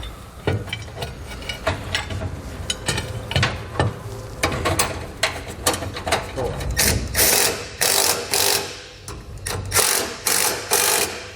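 Ratchet wrench tightening bolts while a spare tire support bracket is reinstalled under a 2020 Chevrolet Colorado pickup, close-up rapid clicking bursts in repeated runs, growing louder and quicker toward the end.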